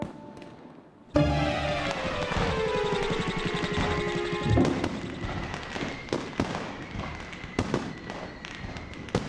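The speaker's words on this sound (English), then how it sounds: "there was a loud scream, a big bang, and the sky lit up all over" A sudden loud burst of fireworks erupts after a second of quiet, followed by crackling, whistling and a scattering of sharp bangs that gradually thin out.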